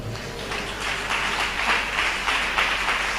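A church congregation at a Tamil Christian service claps along in a steady, continuous wash of hands, filling the room at moderate volume over a low hum.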